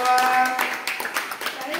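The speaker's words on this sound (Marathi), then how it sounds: "याचा आपण जोरदार सगळ्यांनी जोरदार टाळ्या स्वागत" A group claps to welcome a new friend named Raju, scattered hand claps heard close under a voice that talks over the whole moment.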